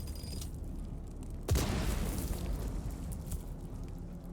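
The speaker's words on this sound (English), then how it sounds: "Oh, wow, lots of booms." Explosions boom in Dune: Awakening, a sudden loud blast followed by a long rumbling, crackling tail of further booms, with no talking over it.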